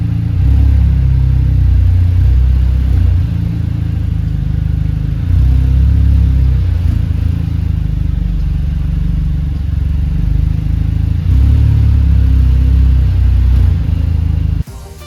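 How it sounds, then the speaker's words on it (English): Mercedes A45s AMG idling and creeping forward onto low ramps, a steady close engine rumble with slight surges throughout, cutting off abruptly near the end. "Just going to pull the car forwards,"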